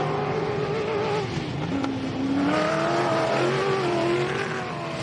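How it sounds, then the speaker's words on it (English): An off-road Jimco race car's V8 engine roars steadily, its pitch rising and falling as it revs and passes, loud and continuous with no talking, during a desert race. "It's obviously got a V8 of some sort in the back of it"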